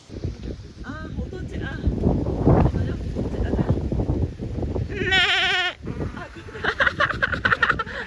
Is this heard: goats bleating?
yes